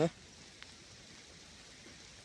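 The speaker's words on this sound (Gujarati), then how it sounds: "પડે વરસાદ આવ્યો" Rain falls steadily as a soft, even hiss that fills the whole stretch, with a brief louder bump at the very start.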